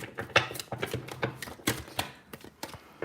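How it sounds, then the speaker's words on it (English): A tarot deck shuffled by hand in quick succession, giving a dense run of sharp, papery clicks and riffles close to the listener, with no speech. "I love how I've adopted this shuffling style."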